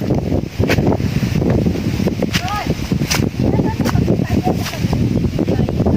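Strong wind buffets the microphone on a grassy hillside trail, a loud, constant roar with gusty swells, while a person talks through it.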